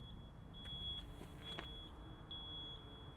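A vehicle reversing nearby gives a steady, evenly spaced series of thin, high beeps over low traffic rumble, heard in a parked 2002 Mercedes-Benz S430 W220 during a morning commute.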